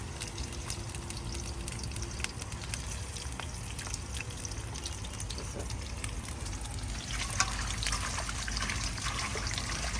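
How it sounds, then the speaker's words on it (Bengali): Dried loitta sea fish is rinsed under running water, a soft continuous trickle and splash that grows slightly fuller toward the end, heard alone. "এই যে আমি শুটকিটা সুন্দর করে ধুয়ে নিচ্ছি পরিষ্কার করে"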